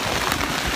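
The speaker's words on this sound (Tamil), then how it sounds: "மழை எவ்வளோ வருதுன்னு பார்த்தீங்களா?" Heavy rain pours down in a steady, dense broadband wash, close and loud, with no voices over it.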